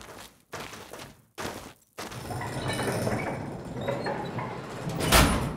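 A door being shut as a sound effect for a German radio play, heard as a few separate thumping bursts that give way to a busier clatter of handling noise, ending in a louder final impact.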